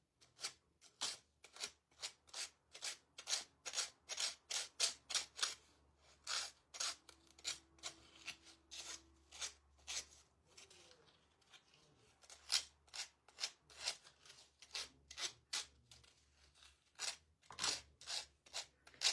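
Quick, rhythmic rasping strokes of a paper napkin rubbed across a fingernail like a nail file, close and crisp, repeating steadily with a brief pause midway and no talk.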